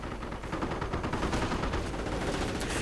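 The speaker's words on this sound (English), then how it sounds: "Riflemen here taking blasts from rifles and the MG just actually does quite a bit of damage." Rifle and machine gun fire crackles in a World War II real-time strategy game as riflemen take blasts, a dense continuous barrage of overlapping shots with no pauses, loud and steady throughout.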